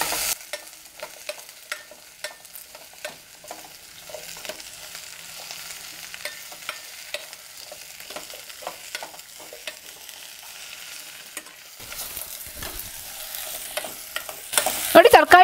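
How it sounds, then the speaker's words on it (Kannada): Vegetables and onion frying in oil in a pan for vegetable sambar, a steady close sizzle broken by frequent scraping stirs, growing louder and busier near the end, with no voices. "ನೋಡಿ ಈರುಳ್ಳಿ ಫ್ರೈ ಆದಮೇಲೆ ತರಕಾರಿಗಳು ಹಾಕ್ಕೊಂಡು ಸ್ವಲ್ಪ ಫ್ರೈ ಮಾಡ್ಕೊಳ್ತಾ ಇದ್ದೀನಿ."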